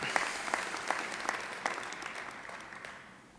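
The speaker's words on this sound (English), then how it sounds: "Please give yourselves and others a round of applause." Audience applause at an annual college academic honors convocation, a steady round of clapping that begins full and gradually tapers off over a few seconds.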